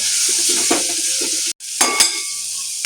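Capsicum bhaji with masala is stirred in a pan, a close, steady sizzle with rhythmic scraping strokes and a few sharp clinks of the spoon against the metal.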